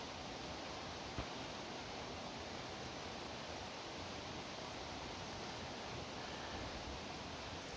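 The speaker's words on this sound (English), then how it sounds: "that sound in the background is a huge waterfall down there" A constant, dense rushing roar of a huge waterfall below a hiking trail in Big Sur, steady and unbroken throughout with no voices.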